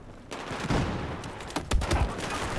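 Rapid gunfire from the video game Battlefield 4, a dense fusillade of overlapping shots and bursts with sharp cracks peaking near the end, loud and continuous with no talk over it.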